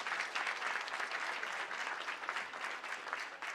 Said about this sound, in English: a warm round of applause for Dionysia.